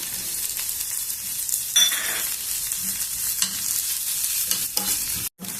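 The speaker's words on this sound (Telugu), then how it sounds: "ఇప్పుడు కొద్దిగా అల్లం వెల్లుల్లి పేస్టు, కొంచెం పచ్చివాసన పోయేంత వరకు వేయించుదాము." Ginger garlic paste fries in a pan for corn pulao, a steady close sizzle with occasional stirring scrapes and a brief dropout near the end.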